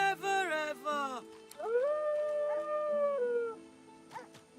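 A dog howls in the video game Divinity: Original Sin II, with a few rising and falling whimpering yelps followed by a long sustained mournful howl, loud and close, with faint game sounds behind.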